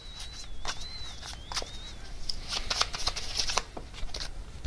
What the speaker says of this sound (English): I'm just going to get one more card